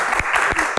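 A brief burst of audience applause at an Indonesian Q&A talk show, many hands clapping together in a dense, lively patter.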